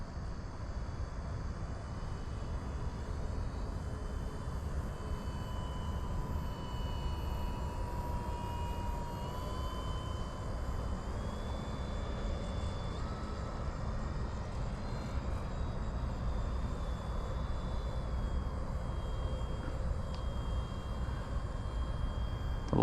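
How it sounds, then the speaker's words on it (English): A 1.3 m Arrows Bigfoot STOL RC plane makes a slow pass over the runway, its electric motor a steady whine that holds fairly level and quiet throughout, with slight rises in pitch. "I'm going to do a slow flyby the runway."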